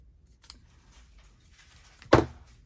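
A single crisp scissors snip trims a corner off a paper journal card made from book pages, sounding close and sharp after a faint earlier click in otherwise quiet surroundings.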